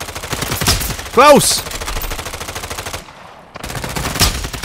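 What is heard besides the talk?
gunfire in a shooter video game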